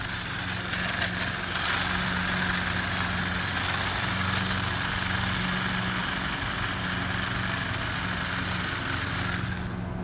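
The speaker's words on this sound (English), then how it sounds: "let's try that again with the hedge trimmer on." A Sun Joe 7.2-volt lithium cordless handheld hedge trimmer runs continuously and close, giving a steady buzzing motor whine with an even drone throughout that cuts off right at the end.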